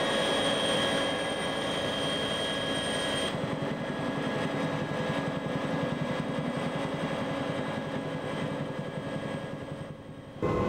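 Helicopter flying over flood-stricken Seoul during the 1990 central-region flood, a loud, steady engine and rotor drone that holds unbroken for the whole stretch with no voices.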